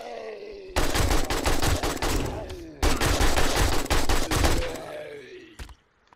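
Sustained automatic AK rifle fire in the survival game 7 Days to Die, two long loud bursts of rapid shots separated by a brief gap, tapering into a short trailing shot at the end with no talking.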